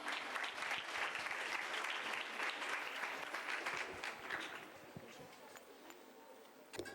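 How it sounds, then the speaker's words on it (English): Audience applause at a women's college graduation ceremony in Bangalore, dense steady clapping from a large crowd that gradually thins and fades toward the end. "Let's welcome her with a thunderous round of applause."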